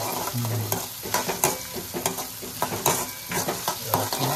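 Chicken chilli, cooked desi style, is stirred and fried in a pan: soft sizzling under repeated scraping and clinking strokes of a spoon, close and moderately quiet, with no talk.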